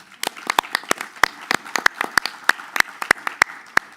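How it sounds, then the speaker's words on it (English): A small audience at a civil society forum workshop claps in sparse, uneven applause, with distinct sharp hand claps ringing out close by and no talking. "I think they deserve a round of applause."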